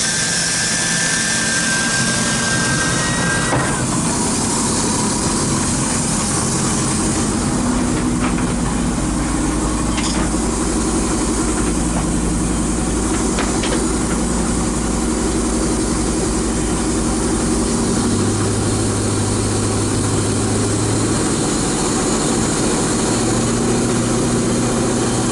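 A Volvo Penta marine engine fitted with full freshwater cooling runs steadily at close range, a loud continuous drone with a low rumble whose pitch shifts slightly partway through, with no one speaking.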